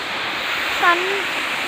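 Water pouring at Bugga waterfalls after heavy rain, a dense, continuous roar filling the scene, with a brief vocal sound rising over it midway.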